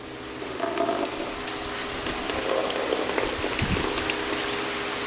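Coolant drains from a Kubota L235 tractor in a steady gushing, splashing stream, loud and close, running without pause.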